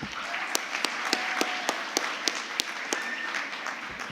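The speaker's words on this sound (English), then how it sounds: "Can we have one final round of applause from the audience?" Light applause from a modest audience at a Model UN awards ceremony, a soft wash of clapping with a few sharper individual claps standing out.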